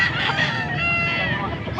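A young stag rooster crows once at a summer gamefowl auction in Angeles, Pampanga, a loud, close, drawn-out call filling nearly two seconds with murmuring crowd voices underneath.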